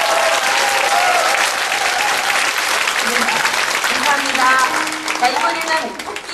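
An audience at a Samulnori concert breaks into loud, sustained applause that carries on steadily, with some voices mixed into the clapping.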